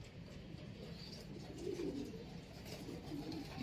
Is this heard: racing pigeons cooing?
yes